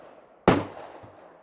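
One sharp, loud gunshot cracks at an outdoor shooting range at night, a single abrupt report followed by a short fading echo.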